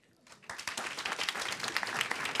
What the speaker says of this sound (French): Par applaudissement, dites-moi oui.